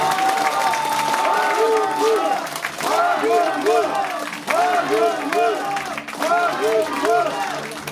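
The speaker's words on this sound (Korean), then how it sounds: "여러분 다시 한번 뜨거운 박수 부탁드리겠습니다" Crowd applause and cheering fill a campaign office opening for a Democratic Party candidate in Pocheon–Gaepyeong, a steady dense wash of clapping with voices and calls mixed in throughout.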